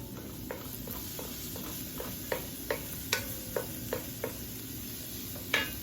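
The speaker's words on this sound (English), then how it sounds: "So you just want to saute this." Vegetables sautéing for fried rice in a pan, a soft sizzle under a series of sharp, evenly spaced clicks and taps of a utensil against the pan.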